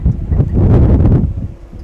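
Steady gusting wind buffets the microphone at an outdoor baseball game in Dallas, Dripping Springs against Highland Park, a continuous low rumble that swells in the middle and eases toward the end.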